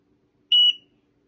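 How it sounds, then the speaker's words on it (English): A T6 timer fitted with a proximity switch gives a single short, high-pitched electronic chirp, its fault-warning alert, sharp and close, standing alone against near silence. "You get a special alarm before the end of the cycle"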